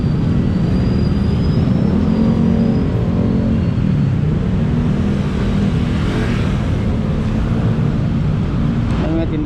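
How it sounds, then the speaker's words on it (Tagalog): Road traffic rumbles continuously outside a hotel in Cebu City near an overpass, a loud low drone of passing vehicles with wind buffeting the microphone. "At saka ma-traffic din."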